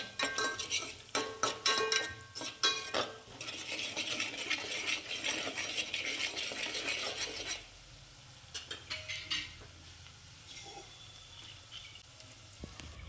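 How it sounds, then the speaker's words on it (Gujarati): Moong bean curry (mag nu shaak) being stirred in a pan: a quiet, close run of scraping and clinking spoon strokes against the pan over a soft sizzle, in uneven bursts that then settle into lighter taps, with no talking. "તો આવી રીતે ફરીથી હલાવી નાખવાનું છે"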